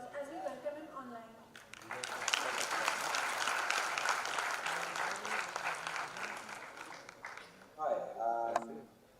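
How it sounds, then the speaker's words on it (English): Sustained applause from an audience at an alumni gathering, a dense even patter of clapping that swells and holds for several seconds, with speech before and after it. "Please extend a virtual round of applause as we welcome him online"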